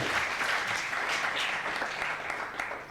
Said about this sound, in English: We can give a first round of applause to